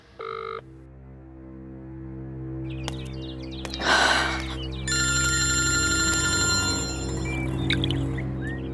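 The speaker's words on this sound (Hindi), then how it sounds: "ये फोन क्यों नहीं उठा रही है?" A telephone in a horror TV drama rings on and on unanswered, a steady run of bright electronic ring tones after a few brief knocks and a rustle, with no one speaking.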